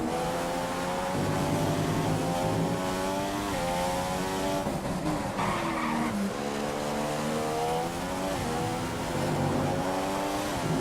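Williams Formula 1 car from the F1 2015 racing game at the Russia circuit, its engine screaming in steady rising and falling gear-shift harmonics, loud and continuous with brief tire scrub, no talk.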